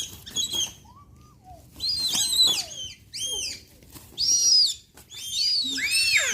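Several bird calls, said to come from herons and ducks, ring out in short bursts of chirps and whistles separated by brief pauses, fairly close and clear with no talking.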